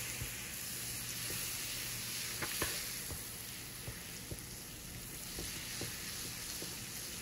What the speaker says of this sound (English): Melt lang natin yung butter.